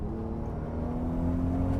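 Toyota Supra mk4 twin-turbo engine droning and gradually building revs from inside the car, a low steady harmonic hum swelling slightly louder toward the end, with faint whir of turbos spooling and no speech.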